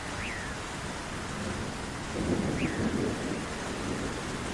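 Rain pours steadily in a cartoon story scene while thunder rumbles twice, low and rolling, the second roll heavier, with no voices.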